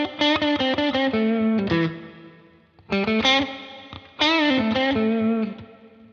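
Electric guitar plays three short phrases through a Cloudburst reverb pedal, the notes ringing out with a reverb tail that fades between phrases.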